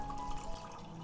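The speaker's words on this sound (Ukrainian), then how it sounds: "Заливаю водою кімнатної температури або теплою та ставлю на вогонь." Room-temperature water running steadily into a pot holding jars with loose lids set up for sterilizing, a continuous close, gentle pouring wash with no voices.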